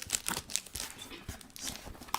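A large cardboard shipping box is torn open by hand, giving a run of crinkling, ripping and scraping bursts at close range, moderately loud with no voices.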